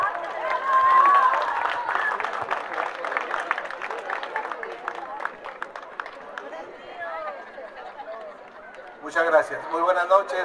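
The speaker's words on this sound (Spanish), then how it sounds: "Recibámoslo con un fuerte y caluroso aplauso" Crowd applause and cheering at a chilena dance contest in Ometepec, a steady wash of clapping that runs for several seconds, thins out, then swells again in a short burst near the end.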